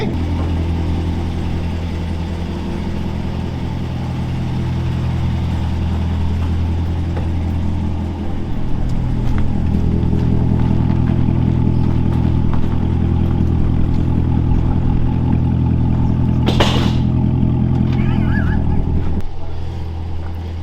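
A heavily modified, damaged Corvette Z06 engine idles with a deep rumble, then revs up and roars steadily nearby as the car drives off, before cutting off near the end.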